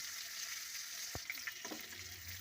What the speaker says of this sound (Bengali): ঘুরিয়ে পেঁচিয়ে সুন্দর করে ভেজে নিচ্ছি আমরা